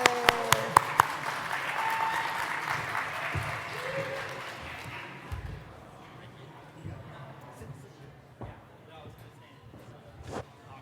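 An audience claps as a panel on cannabis patient technology takes the stage, a burst of applause with a few sharp near claps at the start that fades over several seconds, followed by quiet room noise and scattered voices.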